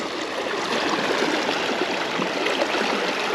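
Fast-flowing river water rushing steadily during fly fishing near Missoula, Montana, a loud continuous broadband roar with no break, close by and without talk.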